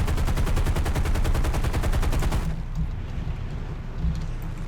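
An aircraft tail gunner's machine gun firing in War Thunder from a Japanese B7A2 torpedo bomber, a loud, steady rattle of rapid shots that stops abruptly partway through, leaving a low rumbling engine drone.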